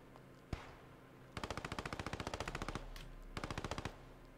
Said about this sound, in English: That MG is still going strong.